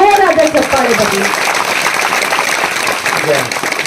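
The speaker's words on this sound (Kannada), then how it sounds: "ಹಟ್ಟಿ ಗ್ರಾಮದ ದೈವದ ಎಲ್ಲ ಮಾನ್ಯರಿಗೂ ನಿಮ್ಮೆಲ್ಲರ ಜೋರಾದ ಚಪ್ಪಾಳೆ ಬರಲಿ" An audience at a village award ceremony honouring Hatti as an alcohol-free village breaks into loud, sustained applause that begins under a speaking voice and then continues on its own, fairly close and even.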